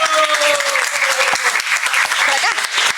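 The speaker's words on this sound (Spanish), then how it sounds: "Un aplauso, por favor." Audience applause at a science talk event on climate change, a steady dense wash of clapping that stays loud throughout, with faint voices and a brief whistle-like tone at the start.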